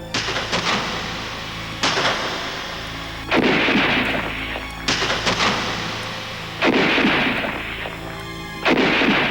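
Repeated loud bursts of gunfire from a 1932 battle between Carioca troops and São Paulo state infantry ring out at irregular intervals, each crack followed by a rumbling echo, with no voices.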